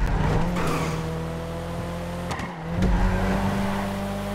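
Car engine droning as it drives a race track in Grand Theft Auto V, a steady hum that dips and rises through the corners with a brief skid, loud and continuous with no talking.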